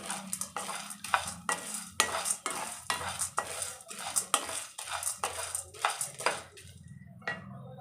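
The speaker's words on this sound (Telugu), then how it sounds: "అలాగే చెనిగింజలు శనగపప్పు ఇవన్నీ కూడా ఇలానే మనము వేయించుకోవాలన్నమాట" Dry chana dal rattles and scrapes in a pan over low heat as a spoon stirs in a steady rhythm, up close with no talking.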